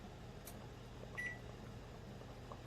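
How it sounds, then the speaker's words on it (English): A kitchen timer being set in a home kitchen gives one faint, short electronic beep over a low steady appliance hum. "Kitchen timer, 200."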